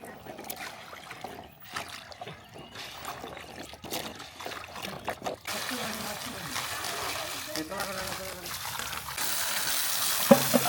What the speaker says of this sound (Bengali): মোটর দিয়ে পানি মারতেছি